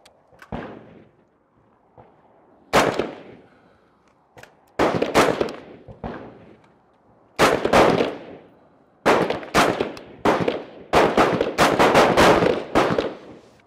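Five carbine rifle shots fired at a center chest target, loud sharp cracks spaced irregularly with pauses between them, some reports close together near the end, no talking.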